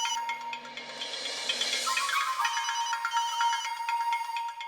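A telephone rings with a repeating electronic ringtone, clear and fairly close, sounding alone without talk over it.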